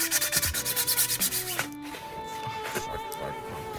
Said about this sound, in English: now I just need to sand it down a lot till it's smooth